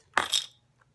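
A set of keys jingles briefly as it is dropped into a small Saint Laurent YSL chain wallet, a short bright metallic clatter lasting under half a second, close and fairly quiet, followed by a faint tick.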